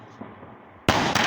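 Ravindra brand sky shot fireworks on a road: a faint pop, then a loud sudden burst of crackling explosions that keeps going, with a second sharp bang near the end, no talk.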